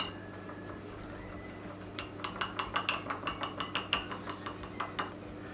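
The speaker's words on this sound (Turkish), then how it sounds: "unumuzu ve yumurtamızı hemen bunu bir çırpalım" A whisk beats flour and eggs in a bowl, giving a quick, regular run of about a dozen light clinking strokes that starts partway through, fairly faint, over a low background hum.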